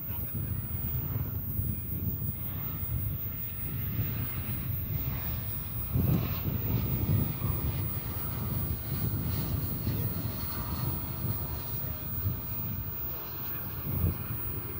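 Delta flight 529 jet takes off from runway 18 Left at DFW Airport, a steady broad engine roar that swells slightly midway, with wind buffeting the microphone throughout.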